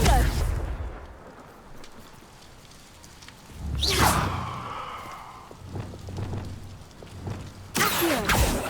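A Confringo fire spell blast in Hogwarts Legacy, a rushing whooshing burst with a fiery roar, followed later by further spell swooshes over quieter ambient game sound.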